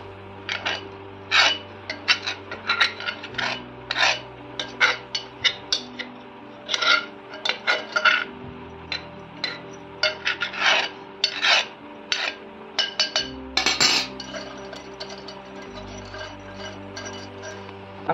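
A spoon scrapes ladoo filling from a pan into a vessel, giving repeated rasping scrapes and light metallic clinks in an irregular rhythm, close and clear, with a low hum underneath.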